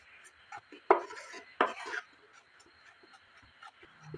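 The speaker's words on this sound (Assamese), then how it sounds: "নাৰিকলৰ গুড়ি দিলে আপোনালোকে এতিয়া এইদৰে লৰাই থাকিব" A spatula clinks and scrapes against a frying pan while coconut powder is stirred, with a few sharper metallic knocks standing out over quiet, irregular kitchen clatter.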